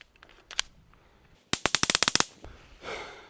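A rapid string of about ten sharp .22 Long Rifle shots fired into a tree, preceded by a few scattered single pops, then a softer rumble trailing after the burst.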